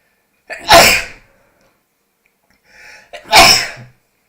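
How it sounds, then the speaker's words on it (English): Two loud sneezes, the first a sharp burst, then a short breathy inhale before a second forceful sneeze close to the microphone. "I gotta sneeze."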